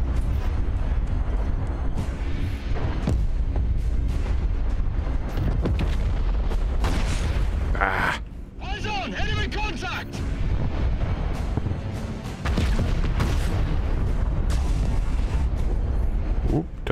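Gunfire and heavy booming blasts fill a video game battle in dense, repeated volleys, loud and nearly continuous, with a brief quieter lull midway and voices talking over the action.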